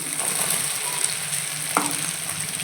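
Soybean chunks and potato pieces fry in a garlicky spiced masala with a steady sizzle; a brief clack of a spoon against the pan stands out near the end, and no one talks.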